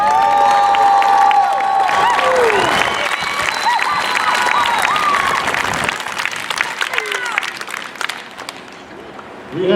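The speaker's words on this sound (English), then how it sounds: "I ask you to give the graduating seniors of 2020 a big round of applause" Crowd applause and cheering for graduating seniors at a 2020 school graduation ceremony, loud sustained clapping with shouts and whistles that gradually thin out toward the end.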